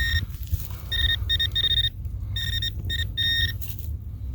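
A metal detector sweeping over a buried target gives several bursts of high, steady electronic beeps, repeated in short clusters over a low rumbling outdoor background with no talk.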